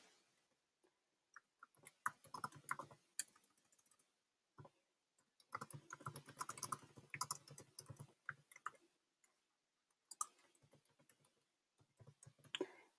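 Quick bursts of typing on a computer keyboard, close and crisp, with clustered clicks separated by short pauses and no talking.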